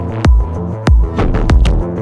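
Bass processed with the Flatter audio plugin's fresh function from the aggressive section, playing deep, heavy plucked notes in a slow rhythm with punchy attacks, alone and upfront.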